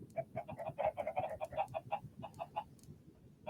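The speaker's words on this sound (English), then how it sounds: "This is the old chicken cannon. This just keeps popping out chicken" Minecraft chickens cluck repeatedly from a chicken cannon in the video game, a rapid overlapping string of clucks over a faint low background, thinning out toward the end.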